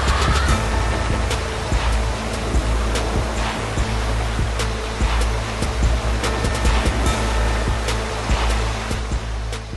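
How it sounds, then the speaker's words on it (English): Renault Duster SUV driving through a river in all-wheel drive, water rushing and splashing loudly and continuously around the car over a low engine rumble, with no voices. "Like the Thar, the Duster too makes the river crossing look easy."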